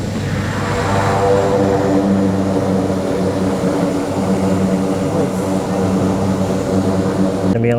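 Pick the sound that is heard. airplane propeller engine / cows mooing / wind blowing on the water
airplane propeller engine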